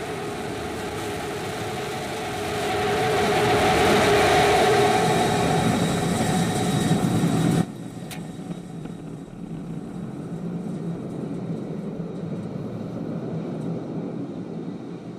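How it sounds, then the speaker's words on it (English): A SpaceX Starship rocket roars loudly as it descends toward the landing zone, a dense broadband rumble that swells then cuts abruptly to a quieter, hissing background. "Starship heading back to the landing zone."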